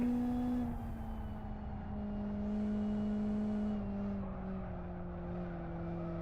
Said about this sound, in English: A little bit of transmission whine going on as well under the chromo tyres bridge.